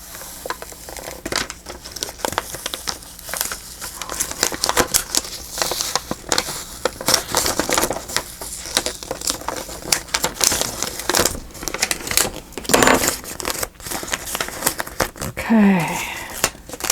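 Stickers being peeled off a sheet in a crafting session, a steady crinkly tearing and rustling with small crackles, close to the mic and fairly constant throughout.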